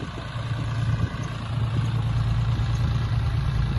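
A tractor engine runs steadily while mixing brick material, a continuous low rumble that stays constant throughout with no voices.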